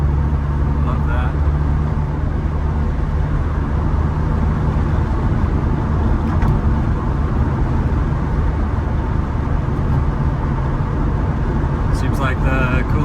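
A 1997 Eclipse GSX cruising in 4th gear, heard from inside the cabin as a steady low engine drone and road rumble that runs beneath someone talking.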